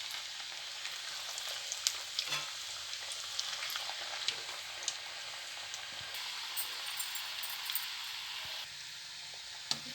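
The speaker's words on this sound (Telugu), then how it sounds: "ఆయిల్ ఇట్లా హీట్ చేసుకొని ఇట్లా గారెలు వేసుకోవాలి." Coconut garelu fritters frying in hot oil, a soft, steady crackle and sizzle with scattered pops, fairly quiet and close, no voices.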